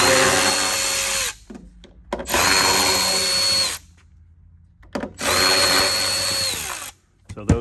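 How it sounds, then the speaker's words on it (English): Power drill removing 7mm screws on a Dodge Challenger, three loud whirring runs of a few seconds each, rising and falling in pitch, separated by short pauses with someone speaking briefly. "So 7mm, you have 7mm screws. We're just going to remove"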